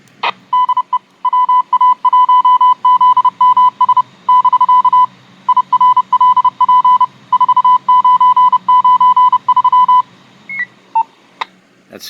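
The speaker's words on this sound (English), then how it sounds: "You're going to recognize the CW coming out of his repeater." Morse code CW identification from an amateur radio repeater plays as a steady run of loud, clear beeped dots and dashes, heard alone with no talking.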